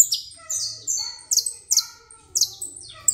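A native canary, Canário da Terra, sings in a new cage, repeating bright high chirps and trills in short bursts every half second or so, close and clear with no talk.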